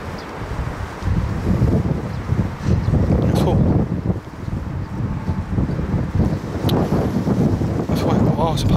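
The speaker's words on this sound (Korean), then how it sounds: "지금 바람 엄청 부는데." Strong wind buffets a microphone on a small weekend farm plot, roaring and gusting in loud uneven bursts while people talk.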